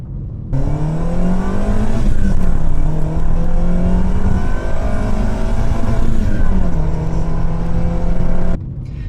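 Honda Civic engine revving while driving, a loud close drone whose pitch climbs and falls through the gears, heard from inside the car with no talk.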